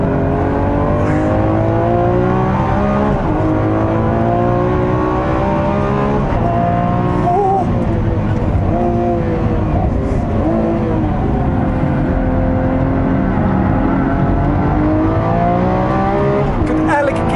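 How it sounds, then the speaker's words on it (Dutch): Lamborghini Aventador SVJ (2018) V12 engine revving and pulling hard on a track, loud and close, with rising and falling harmonic sweeps through gear changes as someone talks over it. "Maar dit, het geluid van die V12."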